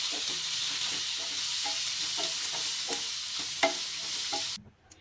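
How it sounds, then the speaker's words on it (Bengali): Shredded carrot, capsicum, green chili and cabbage are stir-fried over high heat for street-style chow mein, giving a steady close sizzle broken by repeated scraping strokes of the spatula, with no talk. "গাজর কুচি, ক্যাপসিকাম, কাঁচামরিচ ও বাঁধাকপি কুচি একসাথে সব সবজি দিয়ে দিব। এখন মিক্স করে নিব হাই হিটে রেখে।"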